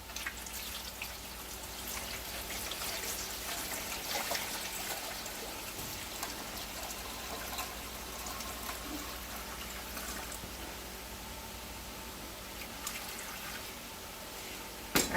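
Water pours and trickles into a metal pressure canner, a soft continuous splashing with occasional drips, fairly quiet and close, ending with a brief clunk.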